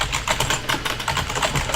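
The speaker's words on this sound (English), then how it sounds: "Just start typing" Typing on a computer keyboard, a quick, irregular patter of close, crisp key clicks that runs continuously without pause or voices.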